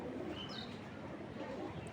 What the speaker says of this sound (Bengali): এটা একটা মাদি কবুতর বড় মাথার